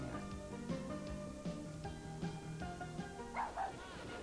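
A dog barks in a string of short, fairly soft yips and woofs, several in a loose rhythm, heard at modest distance over a low background.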